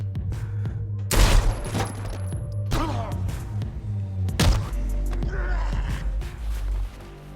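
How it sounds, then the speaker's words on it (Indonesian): Gunfire in a gangster film's climactic scene: several sharp, loud shots and heavy thuds burst out in clusters over a low rumbling soundtrack. "detektif Dennis datang dan menembak Ruiz saat itu juga"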